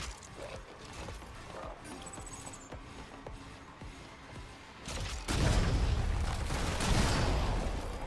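Gunfire from a Stellar Blade gun build. A run of faint, sharp shots and clicks is followed by a louder, broad burst that rumbles on for several seconds, with no talking.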